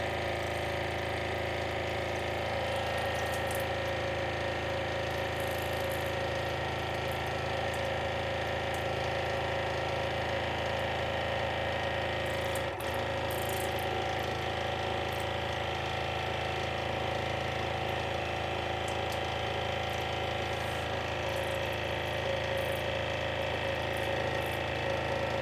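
A water flosser running at a bathroom sink, splashing water onto the sink and mirror. A steady droning motor hum with a constant hiss runs unbroken throughout, close and even, with no voices.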